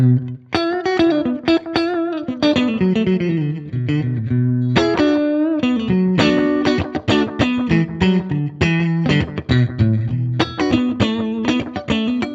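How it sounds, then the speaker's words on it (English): Guitar through a Fender Bandmaster Reverb amp with a Petty John compressor, bright clean chords and picked notes with even, squeezed sustain and quick strums, played continuously and close without talk. "I'm playing a Petty John compressor."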